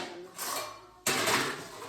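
Pots and utensils clatter in a home kitchen while vegetables are being cooked, two bursts of metallic clanking and scraping, close and moderately loud, the second louder, with a voice in the background.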